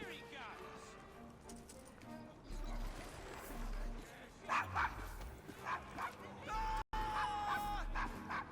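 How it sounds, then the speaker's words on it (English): A dog barks in a street scene of the Assassin's Creed Syndicate video game, with several short yaps and bow-wows amid game ambience and music while people talk. "Is your dog quite all right?"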